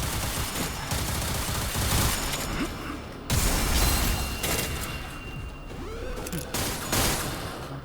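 Gunfire from the Limbus Company game cracks out in loud bursts, volleys of shots and booming impacts, some with shattering crashes, coming in several waves with brief gaps between.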